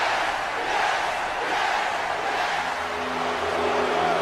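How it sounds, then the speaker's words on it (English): An arena crowd at a professional wrestling event roars and cheers in anticipation of Bryan Danielson's return, a dense continuous wall of noise with no breaks, loud and steady throughout. "as you can hear, the crowd are ready for the return of the Dragon, Bryan Danielson"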